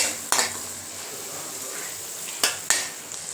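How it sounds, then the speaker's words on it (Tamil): Onion-chili masala being sautéed in a pan for egg rice, a steady soft sizzle with a few sharp clinks of a spoon against the pan, close and without talk. "இப்போ இது நல்லா வதங்கிடுச்சுங்க"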